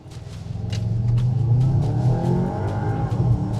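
A Skoda Kodiaq RS, a three-row performance SUV, accelerates hard with a rising engine growl that swells within the first second. The growl holds loud and close, and faint transient clicks sound above the rumble.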